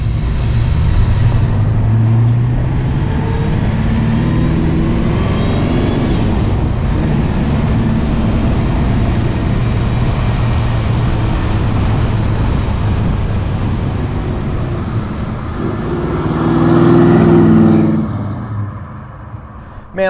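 A carbureted car engine drives and revs, a steady loud drone that swells into a stronger rev near the end.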